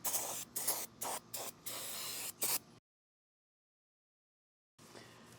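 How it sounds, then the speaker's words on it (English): Brake cleaner sprays onto the rusty rear axle of a Jeep TJ in several short, loud hissing bursts close to the microphone, then silence before one more spray. "Brake clean it again."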